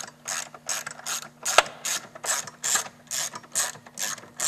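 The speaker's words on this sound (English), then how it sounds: "you tighten the 10 millimeter nut that helps hold it in the right position" A hand ratchet tightens a 10 mm nut on an electric bike motor mount, giving a steady run of close, crisp clicking bursts with short pauses between strokes.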